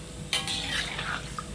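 Molen pastries stirred gently in a pan of hot oil, a soft scrape and swish over steady frying hiss, close and fairly quiet, with no talking.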